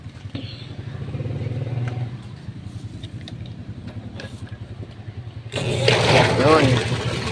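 A Panasonic washing machine runs its spin cycle after repair, giving a steady, close mechanical hum with a rapid rhythmic thumping. Near the end it turns suddenly louder and harsher, with a rushing, clattering swirl.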